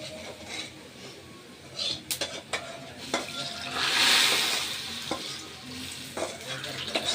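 Garlic, chili and onion frying in oil to temper dal, a steady sizzle with stirring scrapes and occasional sharp clinks of a utensil against the pot, close by and with no talking.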